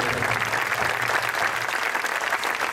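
Loud, sustained applause from a live crowd at a music event in Terres de l'Ebre, dense clapping filling the whole stretch with no voices over it.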